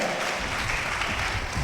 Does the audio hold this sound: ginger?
no